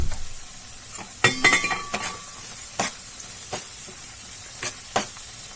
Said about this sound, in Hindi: अब इसमें मैं 2 टेबल स्पून धनिया पाउडर डालूंगी और इसे भी मिला लूंगी।